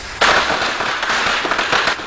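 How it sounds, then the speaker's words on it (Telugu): Firecrackers go off in a rapid, crackling string of loud bursts in a Telugu film comedy scene, close by and filling the whole moment without any talk. "దీపావళి కాదు కానీ క్రాకర్స్ పేలుతున్నాయి"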